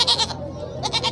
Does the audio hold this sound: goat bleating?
yes